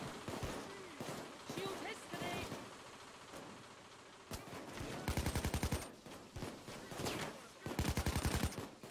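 Rapid bursts of gunfire from the heist video game Payday 2, loud and close, with clusters of sharp repeated shots mixed with game noise and music, while players talk over the action.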